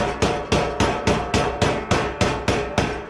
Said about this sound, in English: I like to whack it with a hammer.